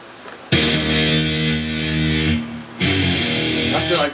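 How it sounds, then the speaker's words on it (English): An electric guitar with heavy distortion rings out in two loud, sustained chords, the first held about two seconds, a brief gap, then a second held to the end. "Kick it back up the distortion."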